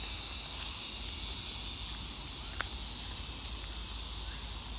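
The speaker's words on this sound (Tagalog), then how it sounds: "Sarap ng huni ng kuliglig." Crickets chirp in a continuous high-pitched drone, with a few faint clicks and ticks scattered over a quiet background hum.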